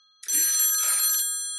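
A telephone rings in the hall of a house with a single loud, bright electric bell burst of about a second, fading briefly after.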